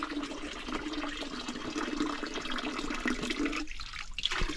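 Water gushing steadily from the outlet of a ram pump lifting pond water without electricity, a continuous splashing flow that thins out briefly near the end.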